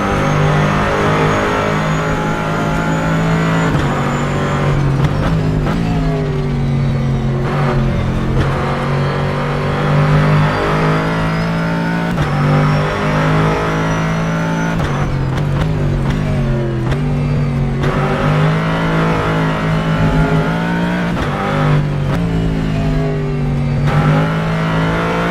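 Racing car lapping Sebring International Raceway in the rFactor 2 sim, its engine droning loud and steady throughout, pitch rising and falling with repeated upshifts and downshifts through the corners.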